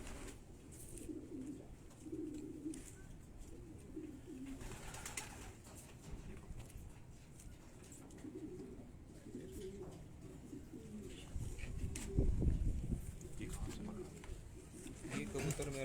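Racing pigeons coo softly and repeatedly, close by, in a loft in Quetta, with people talking over them and a louder rustling burst near the end.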